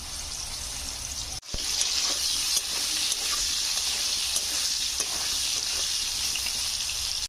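Potatoes frying in hot oil with salt and a little turmeric, a steady dense sizzle that runs close and loud nearly throughout after a brief break near the start, with faint stirring scrapes.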